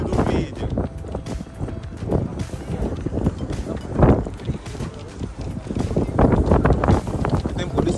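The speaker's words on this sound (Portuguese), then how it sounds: "Essa ventania vai querer estragar o áudio do vídeo." Strong wind outdoors in Russia buffets the microphone with a constant rough rumble and gusts that swell and fade, while people talk throughout.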